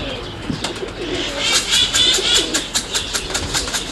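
Roller pigeons in a breeding loft giving soft, repeated throaty coos, close and steady, with a continuous low rumble underneath.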